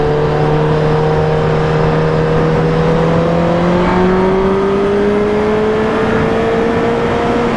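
A Honda CBR1000RR sport motorcycle is ridden at speed, its engine whine rising steadily through the revs over a constant rush of wind, loud and continuous with no talk.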